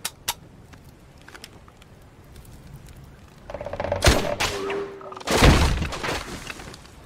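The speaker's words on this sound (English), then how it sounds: "demonstrate the weapon on single shot" A P90 in The Division 2 fired on single shot: a few sharp, loud reports spaced seconds apart, each with a short ringing tail, over quiet game ambience.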